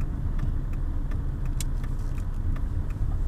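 Low, steady car engine rumble while parking, continuous and close, with faint light clicks and ticks scattered over the drone.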